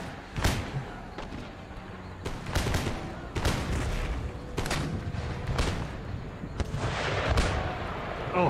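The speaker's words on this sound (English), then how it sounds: "Here come the mortar shells." Mortar shells and artillery fire on a beachhead in the Empire Total War game: a series of sharp booming blasts and thuds at irregular intervals, some near and loud, others further off, under a steady battle din.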